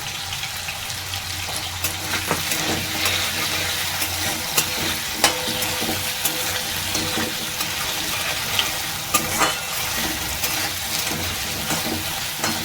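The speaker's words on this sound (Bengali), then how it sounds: "আলুগুলো ভাজা হয়ে যাক, তারপর আমি আলুগুলো ভেজে তুলে নেব" Potatoes frying in a pan for a spiced potato and cauliflower dish, a steady close sizzle with occasional clicks of stirring, no voices.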